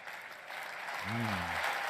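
Lukewarm applause from a political rally crowd at CPAC 2022, a faint, steady patter of clapping from a distant audience, with a voice briefly speaking over it near the end.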